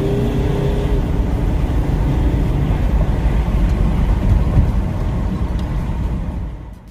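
Volvo C70 MK2 (P1) front-wheel-drive turbo car accelerating hard, a steady loud engine roar that builds under boost and then eases off at the very end.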